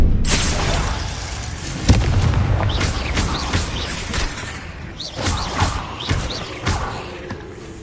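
Repeated Confringo fire-spell blasts go off in a Hogwarts Legacy battle, booming bursts and crackling impacts layered over busy combat effects, loud and close, with no voices.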